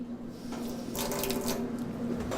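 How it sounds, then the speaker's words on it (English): Water runs from a tap into a sink while sushi is being prepared in a kitchen. It is a soft, steady splashing stream with a low hum beneath, heard alone. "Then a little bit more water."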